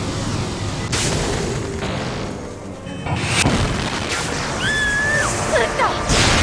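Heavy booming gunfire from a mobile suit in the Turn A Gundam anime, several loud blasts over a rumbling soundtrack, with a voice speaking briefly between them.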